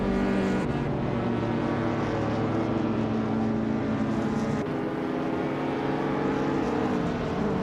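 Engine of a Volkswagen Golf GTI racing in a video game, a loud continuous droning whine with layered tones from several cars, pitch shifting through gear changes, steady and close with no voices.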